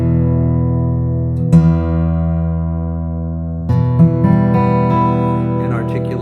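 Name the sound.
Boucher SG 52 MV acoustic guitar flat picked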